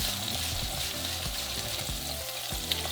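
Steady sizzling and crackling of butter in a hot medium frying pan, a close, continuous hiss with occasional soft pops and scraping.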